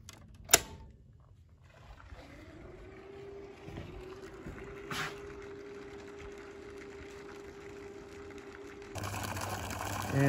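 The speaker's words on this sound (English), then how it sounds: "So let's turn the well pump back on." A well pump powered by an off-grid hybrid inverter starts after a click, then settles into a steady, faint electrical hum with a constant tone, heard close in a quiet space before a louder noise comes in near the end.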